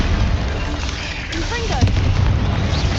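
Bombarda spell blast in Hogwarts Legacy, a boomy magical explosion rumbling under continuous game music and effects, with no clear isolated peak.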